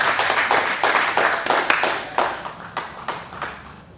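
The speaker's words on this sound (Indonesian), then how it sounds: "Berikan tepuk tangan yang meriah." Audience applause at a Batak comedy show, a scattered round of distinct claps from a small crowd that thins out and fades toward the end.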